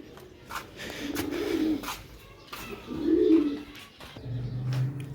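A pair of Sialkoti silver pigeons coo close by in three soft, low throaty phrases spaced a second or so apart, with faint background noise between.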